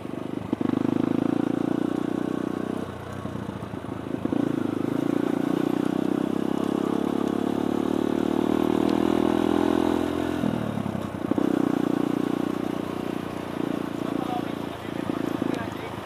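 Large motorcycles riding past on a road toward Puncak Bogor, a steady loud engine drone with shifts in pitch as bikes go by, mixed with a rider's talk.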